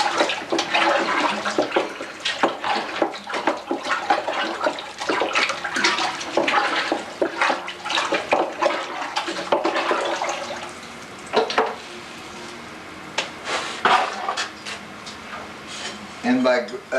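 Pottery glaze that has settled for several days is stirred in a large crock, making sloshing, swirling liquid sounds with thumps and scrapes against the container, loud and close, with brief pauses.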